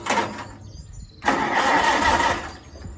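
A Farmall H tractor engine catches and runs after starting, with a short rough burst, a brief drop-out, then a loud, steady, close running sound that settles toward the end.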